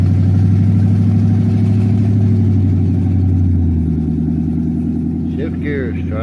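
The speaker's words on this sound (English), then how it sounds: "Shift gears, truck." A truck engine on a cold morning runs loud and steady nearby, its low drone shifting pitch as it changes gears and the tone drops partway through, with a brief rattle near the end.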